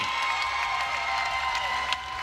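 A crowd applauds and cheers a new women's world record at a STIHL Timbersports U.S. championship, a steady dense wash of clapping and crowd noise that holds throughout.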